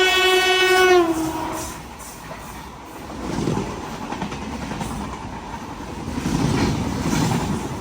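A Madgaon–Mumbai CST Jan Shatabdi Express sounds one long, loud, harmonic horn blast. The horn cuts off after about a second, leaving the rushing rumble of the train passing close by, rising and falling.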